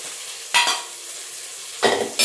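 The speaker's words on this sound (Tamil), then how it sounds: "இப்போ சின்ன வெங்காயம் கொஞ்சம் வதக்கிட்டு இருக்கேன்" Small shallots sautéing in a pan for a gut (kudal) gravy sound as two short bursts of sizzling and stirring, with quiet pauses between them.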